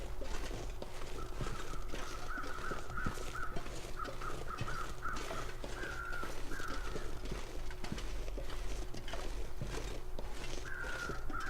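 Crows caw repeatedly in the snowy wilderness of the survival video game The Long Dark, rough calls rising over a constant wind-like background along with soft thuds of movement, moderately distant and with no voices.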